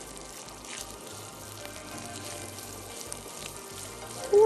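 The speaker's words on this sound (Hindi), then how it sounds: "थोड़ा सा फ्राई कर रहे हैं" Julienned ginger frying in a pan, cooked as part of a Thai noodle soup: a steady, soft sizzle that runs throughout, ending in a brief louder clatter, with no speech.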